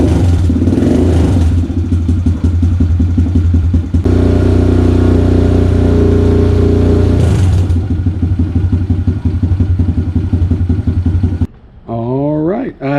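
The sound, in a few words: Kawasaki KLX 110 big bore dirt bike engine running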